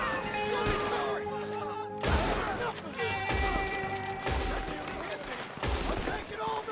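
Dense gunfire from a Red Dead Redemption 2 shootout, rapid overlapping shots and sharp bursts filling the whole stretch, loud and close, with game music and shouted voices underneath.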